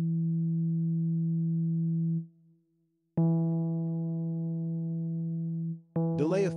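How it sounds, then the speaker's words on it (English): Synth tone from the REFX Vanguard 2 plugin shaped by its high- and low-pass filters: a steady, buzzy sustained note that cuts out, returns brighter with more overtones, then ends in a short warbling, sweeping burst. "Low and high works as in high and low pass filter."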